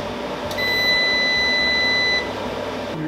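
An off-grid solar inverter at a northwoods camp gives a steady high electronic beep for about two seconds as it is switched off. The beep sits over a constant low hum, with a faint click at the start.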